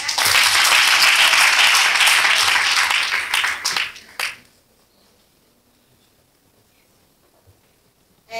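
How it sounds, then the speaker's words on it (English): Loud, dense round of applause from an event audience at a women's high coffee gathering in Randburg, South Africa, sustained for about four seconds before tapering into a few last claps and near silence. "And I need a round of applause for that."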